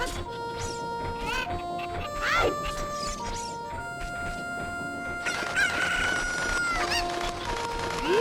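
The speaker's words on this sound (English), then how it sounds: "Where'd the chicken go?" A cucco chicken in the video game Legend of Zelda: Ocarina of Time clucks and squawks in bursts, mixed with bright electronic game tones and chimes, fairly close and clear.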